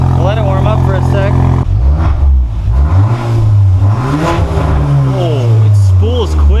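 A loud, close MK8 Golf R engine revs repeatedly with a deep, throaty Milltek turboback exhaust rumble rising and falling, with people talking over it.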